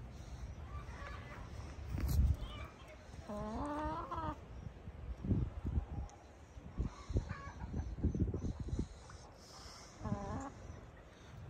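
Three Australorp hens cluck and squawk intermittently nearby in cold weather, with short bursts of calls and some scuffling in between.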